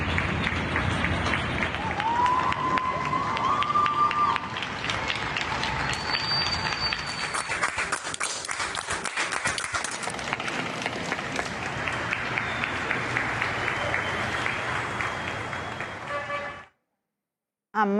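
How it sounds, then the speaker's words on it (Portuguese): Sustained applause from a large audience paying tribute, dense and steady for about sixteen seconds before cutting off abruptly, with some crowd noise mixed in. "Para você, Paulo Gustavo, todos os aplausos."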